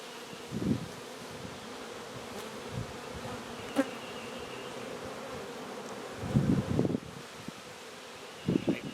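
Honeybees hum steadily around an open hive, a dense continuous drone with louder buzzes as single bees pass close by, plus soft rustling now and then.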